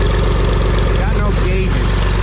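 A cold auction tractor with a hydraulic leak idles loudly and close after starting, its engine throbbing in a steady low pulse while someone talks over it.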